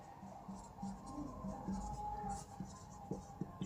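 Pen writing Hindi text while working a probability problem about two children in a family: faint scratchy strokes in short bursts, close and quiet, with no talk over them.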